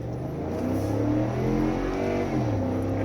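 A Ford F-150 pickup in tow/haul mode pulls hard through a 0–60 run, its engine drone rising steadily with audible gear shifts, heard from inside the cab, loud and continuous with no talking.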